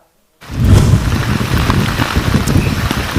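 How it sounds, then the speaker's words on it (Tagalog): Heavy rain pours down in the Cordillera region, starting abruptly after a moment of silence and continuing as a dense, steady, loud hiss with a low rumble beneath it. "Kahapon pa walang tigil ang pagbayo ng malakas na ulan sa iba't ibang bahagi ng Cordillera"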